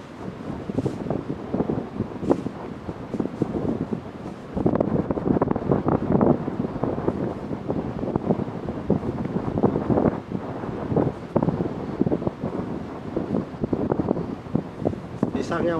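Strong wind on a beach buffets the microphone in a steady, loud, low roar that swells and gusts throughout.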